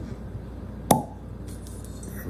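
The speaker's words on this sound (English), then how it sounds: "Let's go ahead and hear that pop coming out right now." A cork pops out of a bottle of El Mexicano añejo tequila in a single sharp, close plop, then quiet follows with faint handling sounds.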